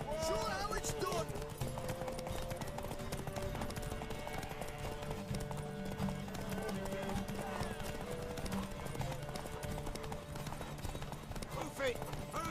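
Horse hooves gallop in a race in The Witcher 3: Wild Hunt, a rapid clip-clop rhythm running throughout beneath music as game characters shout and talk over it.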